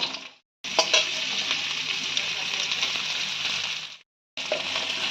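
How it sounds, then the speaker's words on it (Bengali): Long slices of pointed gourd frying with onions in a pan, a loud continuous sizzle with stirring scrapes, cut off briefly twice by short silent gaps. "এবার কেটে রাখা লম্বা লম্বা পটলগুলো আমরা পেঁয়াজের মধ্যে দিয়ে হালকা করে ভাজা ভাজা করে নেব"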